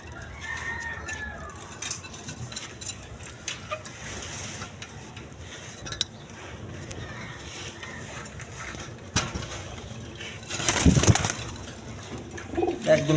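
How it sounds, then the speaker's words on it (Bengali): Pigeons at a market stall selling Teri pigeons coo and flutter amid a busy bird chorus, with a rooster-like crow standing out briefly near the end; the bird sounds carry steadily under noisy surroundings, and no one talks. "দেখেন টেরি কবুতর।"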